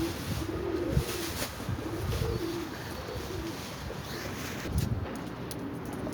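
Soft, low pigeon cooing repeats a few times in a steady rhythm over a constant outdoor background hum, fairly near and moderately quiet.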